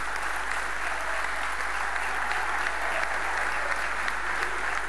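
Steady, dense applause from a large crowd at a political event greeting young radicals, sustained and even throughout with no voices standing out.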